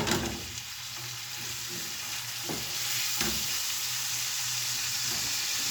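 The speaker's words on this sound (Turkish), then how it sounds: "Kıymamı attım arkadaşlar bak kavuruyorum kıymamı" Ground meat sizzles and crackles steadily in a hot pan for içli köfte filling, a close, continuous fry with a couple of stirring scrapes and no talking.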